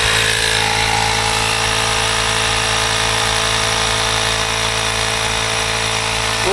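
A Ryobi portable tire inflator pumps up a trailer tire, running as a loud, constant mechanical drone close by, alone and unbroken.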